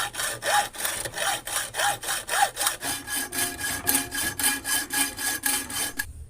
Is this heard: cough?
no